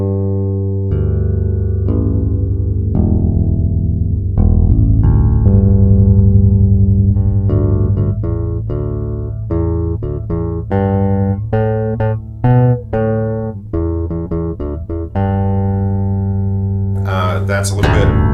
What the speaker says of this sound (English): That's a little bit of the bass with the pickup turned on.